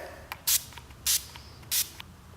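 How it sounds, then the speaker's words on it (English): Three short, bright bursts of Urban Decay All Nighter makeup setting spray, evenly spaced and close by, with quiet pauses between each spritz. "So you want to go in with setting spray because this is a summer look."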